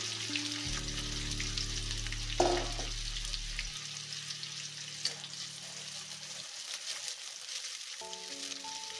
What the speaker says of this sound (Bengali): সবার প্রথমে আমি পেঁয়াজগুলো ভেজে নেব।